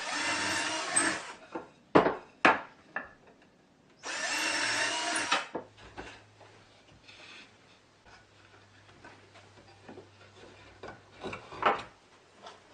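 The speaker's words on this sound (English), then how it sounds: "I've cut a notch out of the end of one of the shafts so I can use it as a reamer to expand the holes a little bit" A notched steel shaft spun by a power drill reams out drilled holes in a pantograph build: two loud whirring bursts separated by sharp clicks and knocks, followed by a low steady hum and scattered handling taps.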